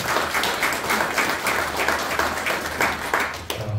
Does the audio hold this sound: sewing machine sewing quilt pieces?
no